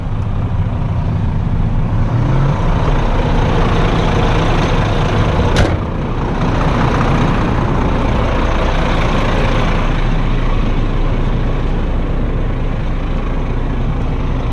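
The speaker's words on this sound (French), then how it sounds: "on va laisser le moteur tourner pour l'instant." A heavy truck's diesel engine idles steadily and loudly, a constant low rumble holding throughout with a brief click partway through and no talk.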